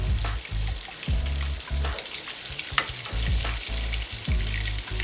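A coconut-and-spice-coated fish fillet fries in a pan with a loud, continuous sizzle, broken by repeated low knocks and scrapes as it is moved about, with no voices.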